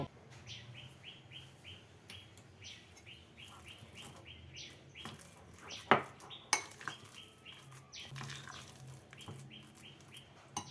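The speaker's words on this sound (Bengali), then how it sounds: "গ্যাসে কড়াই বসিয়ে কড়াইতে দিয়ে দিচ্ছি" A wok is set down on a gas stove with a couple of sharp metallic clanks amid light kitchen clatter, while birds chirp steadily in the background.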